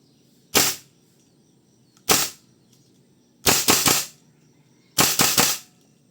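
WE M4 V3 airsoft rifle, 2026 edition with steel trigger assembly, firing four close, sharp bursts: two single shots, then two rapid three-round strings with pauses between, and no voices.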